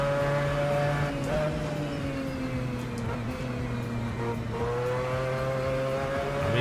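A Mazda race car engine in a sim racing video game drones steadily at high revs, its pitch dipping and climbing with gear changes, loud and close throughout.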